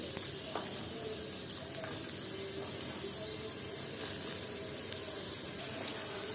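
Chopped onion sizzles in hot oil with a continuous, fairly quiet hiss and crackle. Small pops break in at scattered moments.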